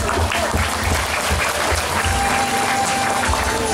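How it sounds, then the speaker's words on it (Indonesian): A crowd at a parenting session in an Islamic boarding school in Palembang breaks into applause, loud and continuous clapping with a few voices underneath. "tepuk tangan untuk mereka bertiga."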